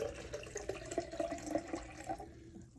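Hot water runs from a tap in a steady, splashing stream close by, with a few drip-like spatters and no talking.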